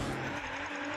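A car in the Rocket Racing video game drifts with steady tire squeal and engine roar, a short continuous screech with no talk.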